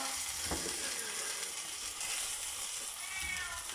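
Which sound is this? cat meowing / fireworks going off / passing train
cat meowing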